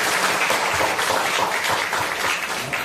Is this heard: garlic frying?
no